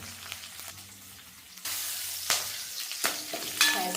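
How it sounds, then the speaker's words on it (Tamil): Onions and curry leaves sauté in a pan at home, with a low crackling sizzle that grows louder partway through, broken by a few scraping stirs, with no talk. "வெங்காயம் வதங்கட்டும்."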